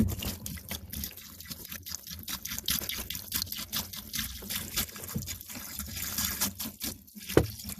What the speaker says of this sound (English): I'm going to pour water in